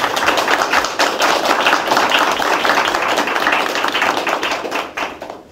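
An audience at a high school debate tournament final claps loudly and briskly to welcome a competing team, a dense close-up round of hand claps that fades out near the end.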